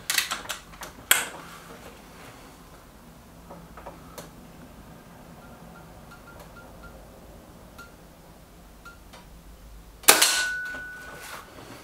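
Air rifle shots from a Trimex Arms Elf S and a Kral Puncher Knight: two sharp, close cracks about nine seconds apart, each with a brief ringing tail, and scattered faint ticks and clicks between them.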